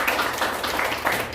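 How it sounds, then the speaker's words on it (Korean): A church congregation claps for newly appointed officers during a Sunday worship service; a soft, even patter of many hands, moderately distant and fairly quiet throughout. "우리 박수 한번 해주시기 바랍니다."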